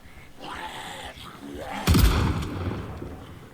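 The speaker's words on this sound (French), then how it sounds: "Juste un coup de feu, ça suffit." A single sharp gunshot cracks out mid-clip in the game Project Zomboid, loud and close, with a speaking voice before it and a short ringing tail after.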